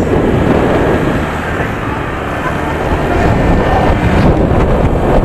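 Heavy wind buffets the microphone in a loud, constant roar of rumbling noise that barely lets up from start to finish, outdoors in Lobo, Batangas.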